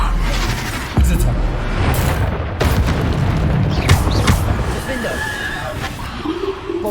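Bombarda spell blasts in Hogwarts Legacy, several booming explosions and crashes amid combat noise, with someone talking throughout.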